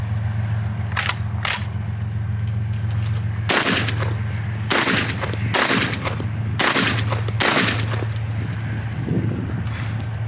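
A GForce Arms GF4 shotgun fires Federal 2 3/4 inch one-ounce hollow point slugs outdoors into a berm, with a series of loud, sharp blasts spaced a second or more apart over a constant low background drone.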